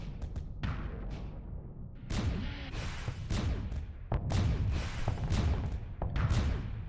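A super missile launches in the space game Starsector, the firing coming as a string of sharp thumping blasts and whooshing impacts spaced a second or so apart.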